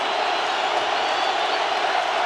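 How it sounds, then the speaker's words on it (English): A loud, steady roar from the crowd at a Seattle Seahawks home NFL football game against the Chicago Bears in 2007, dense and unbroken throughout. "because this crowd is so loud"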